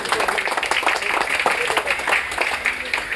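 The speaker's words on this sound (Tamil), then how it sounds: "முதல்ல இந்த ரமேஷ் சாருக்கு வந்து கைத்தட்டல் கொடுக்கணும் எல்லாரும்." An audience at a charity event claps continuously for a book release, a dense wash of applause that stays steady the whole time, with faint voices mixed in.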